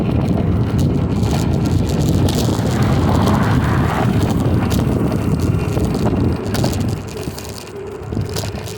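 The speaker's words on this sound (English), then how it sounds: "Yeah, it's pretty windy still." Strong wind roars continuously across the microphone while riding a Ninebot Segway ES4 electric scooter in sport mode at around 31, a loud steady buffeting rush with no speech.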